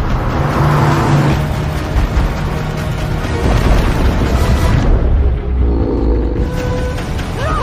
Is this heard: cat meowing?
no